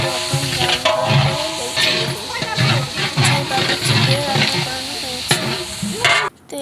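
Chopped onions frying in a pan, a steady close sizzle with repeated stirring scrapes and clinks, a voice talking over it throughout.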